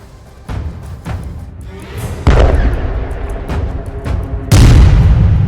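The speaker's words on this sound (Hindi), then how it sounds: "उन तस्वीरों में गाजा में कई हमले होते दिखाई दिए और इस दौरान वहां पर सिर्फ धमाकों की आवाजें सुनाई दी" Israeli airstrikes hit Gaza in a series of booming explosions: a few dull distant thumps, then two heavy, loud blasts that roll into a rumbling aftermath.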